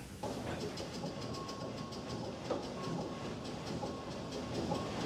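A steam crane hauls a lunch train slowly along the rails, a steady rolling rumble with soft clicks of wheels over rail joints and a faint high tone, moderately loud and continuous with no talk.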